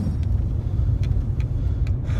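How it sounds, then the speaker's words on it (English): A 2009-2010 Acura TSX rolls along with fresh strut replacements, a steady low road rumble and engine drone close by, with faint brief ticks over the top. "just taking my car for a ride here"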